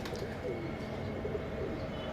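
A breeder pigeon, a female, coos softly in low murmuring phrases over a steady background hiss.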